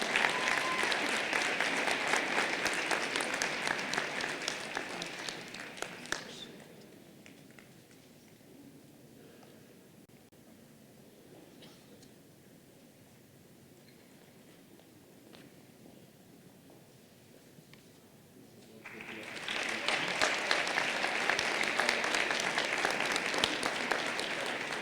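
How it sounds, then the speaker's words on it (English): Audience at a campus inauguration ceremony breaks into loud sustained applause, which fades to a quieter murmur of scattered claps and movement for over ten seconds before a second full, dense round of clapping swells up again. "Let's give him a round of applause."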